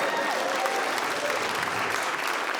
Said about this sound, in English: would have been weird if you kind of applauded and then didn't. You guys came through.